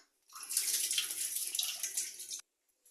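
Lentils being washed and drained with running water for millet pongal, a steady rushing splash that starts abruptly, holds for about two seconds, then cuts off into silence.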